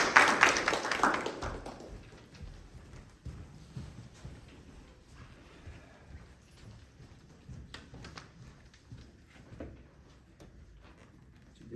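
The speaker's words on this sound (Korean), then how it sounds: "박수로 맞이하도록 하겠습니다" Church audience at a Sunday worship service applauds to welcome a pastor, a loud burst of clapping at the start that quickly fades into scattered taps and soft room noise.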